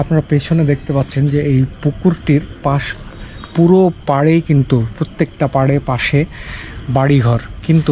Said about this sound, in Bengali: আর চারপাশে ঝিঝি পোকার ডাক